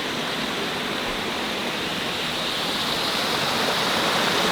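Steady, full-bodied rush of streams flowing through a wooded desert canyon, a continuous close water roar with no pauses and no voices.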